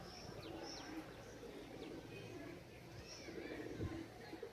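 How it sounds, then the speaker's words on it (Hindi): Homing pigeon number 25 returning to its loft during a pigeon race day, faint intermittent coos and soft bird calls over a low background hum, with people talking nearby. "25 नंबर कबूतर हमारा आ गया"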